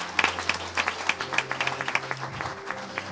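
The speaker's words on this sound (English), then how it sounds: "Clap for the Lord." Congregation applause at a church service, a steady patter of clapping hands with rhythmic peaks throughout, moderately loud and close, with no speech over it.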